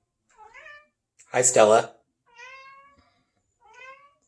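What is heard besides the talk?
cat meowing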